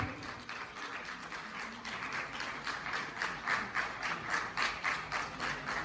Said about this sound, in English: Lots and lots of claps for this moment.